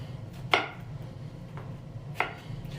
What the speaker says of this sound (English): so I got to cut my vegetables quickly because my pan is right there